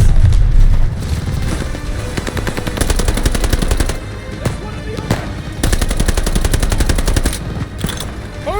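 Machine gun fire in a WWII video game set in the Battle of France, 1944, rattles in loud, rapid continuous bursts with brief gaps, layered over heavy booms and battlefield rumble.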